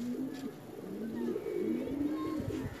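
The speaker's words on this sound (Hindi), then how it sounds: "सीधे परों का कबूतर लंबी चाल का कबूतर है" A long-flying pigeon with straight feathers coos nearby, a soft low rolling call repeating in gentle waves over faint background noise.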